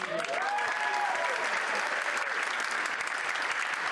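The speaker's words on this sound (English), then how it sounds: "How about another round of applause?" An audience at a local charity dance competition applauds steadily, a dense, even wash of clapping with faint whoops near the start.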